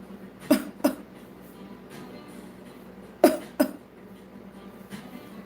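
Four short, dry coughs come in two quick pairs, faint and somewhat distant over a low, steady room hum.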